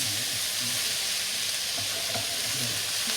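Peppers and kielbasa fry in a hot pan, giving a steady, close, continuous sizzle and crackle that runs unbroken with no voices.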